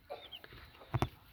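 Broiler chickens on a small farm project cluck softly, with a couple of brief, louder bursts near the end standing out over a quiet background.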